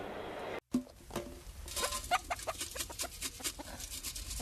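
Chickens outside a home near Limerick City cluck and murmur nearby in a busy, uneven series of short calls after a brief cut at the start.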